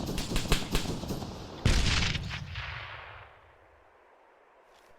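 Enemy machine gun fire in a squad training game: a quick burst of close, rattling shots followed by a heavier blast, then a long decaying rumble and quiet tail.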